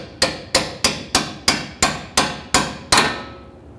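A hammer taps the CV axle shaft of a 2010-2019 Ford Taurus with ten evenly spaced, sharp metallic strikes, each ringing briefly, loud and close.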